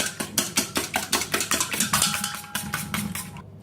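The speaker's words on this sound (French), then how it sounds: "Je mélange, je vais fouetter le tout." A whisk beats homemade peanut brownie batter seasoned with vanilla and a pinch of salt in a bowl, with quick, evenly spaced metallic strokes close up that slow and stop near the end.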